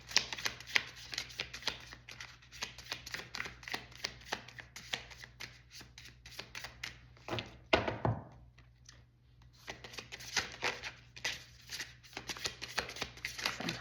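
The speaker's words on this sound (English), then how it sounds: "Sometimes it does not like to shuffle for me." Tarot cards shuffle in a steady riffling rustle with soft taps and brief pauses, close up and continuous.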